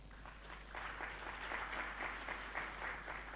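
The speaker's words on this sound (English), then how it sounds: "the first two speakers deserve a much better round of applause than that" A plenary session audience applauds, a fairly faint, distant and even patter of many hands clapping with no voices over it.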